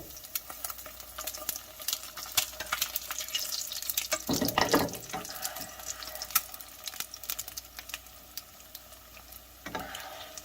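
Eggs frying in oil on a hot pan while hot oil is spooned over them, a steady crackling sizzle with louder spattering surges as the oil is poured, close and without talk.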